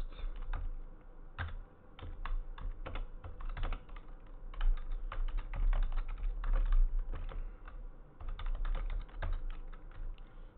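Rapid, irregular typing on a computer keyboard, close and clear, keystrokes clattering in uneven bursts over a low hum.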